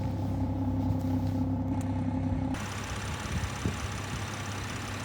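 A BMW 440i Gran Coupe (F36) turbo inline-six engine idles with a steady low rumble and drone from an aftermarket performance exhaust, close by, its tone shifting slightly partway through.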